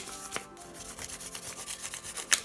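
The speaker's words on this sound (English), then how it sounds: "Really distress the edges between the wires of your whisk." A wire whisk scraped along the edges of paper to distress and age them, a steady close rubbing rasp with small scratchy bursts and a sharper scrape near the end.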